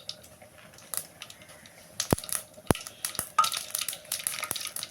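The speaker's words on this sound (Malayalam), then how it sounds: "കടുക് പൊട്ടിട്ട്" Mustard seeds spluttering in hot coconut oil at the start of a roasted-coconut prawn curry: sharp, scattered pops and crackles over a low sizzle, growing busier toward the end.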